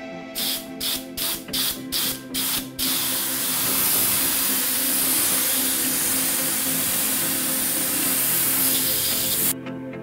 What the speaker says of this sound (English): If you use a small nozzle, they won't pass the nozzle and will stay in the airbrush.